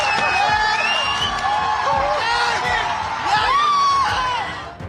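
A crowd of student protesters cheers and celebrates outdoors, with loud whoops, yells and shouts layered over one another in a dense, continuous roar close by.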